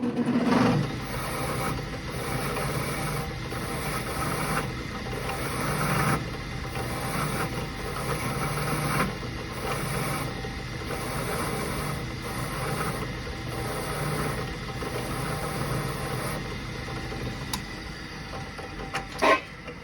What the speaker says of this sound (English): So we're gonna wire wheel these real quick